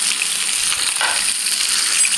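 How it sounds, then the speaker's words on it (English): Food sizzles in a frying pan in the cooking game Toca Kitchen 2, a continuous bright hiss lasting throughout at an even, fairly loud level. "select pan and cook it here on the pan."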